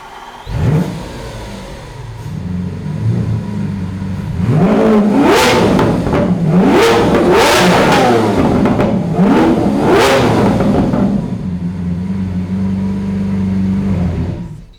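A Lamborghini Revuelto V12 with a Gintani F1 exhaust revs hard, loud and close, in a series of sharp rising blips that climb and drop over a steady idle, then settles back to a rumbling idle.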